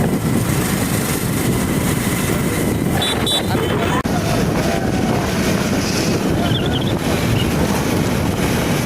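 Riding a motorbike on a road toward Kushinagar brings loud, steady wind roaring across the microphone, a constant buffeting rush throughout, with a voice speaking under it.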